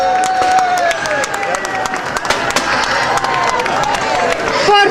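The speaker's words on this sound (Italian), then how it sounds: "Fortissimo l'applauso per Sir Oliver Scardi!" Crowd applause and cheering at the Venice Carnival in the square, a dense continuous clatter of many hands with scattered shouts, loud and close, a voice briefly calling out near the end.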